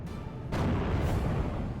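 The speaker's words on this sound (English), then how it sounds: "Wolverine will get a nice shot off onto the Panzer IV operator." A Wolverine tank destroyer fires on a Panzer IV in a World War II strategy game: one heavy cannon boom with a rumbling low tail, close and loud.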